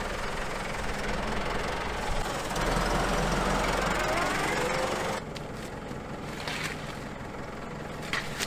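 A tractor engine runs with a steady knocking drone, loud at first and heard from inside the cab, then dropping noticeably quieter partway through, with a few knocks and bumps near the end.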